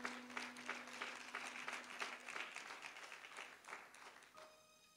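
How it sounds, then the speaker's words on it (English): Congregation in a church applauding, with steady hand clapping across the room for about five seconds, moderately loud and fading at the end as a sustained tone comes in. "let's give him a hand clap of praise."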